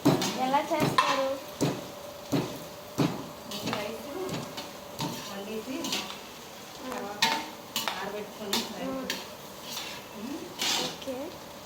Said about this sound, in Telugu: క్యారెట్, ఆనియన్స్, పచ్చిమిర్చి, గట్టిగా జింజర్ పేస్ట్ అన్నీ వేసుకొని కలుపుకోవాలా?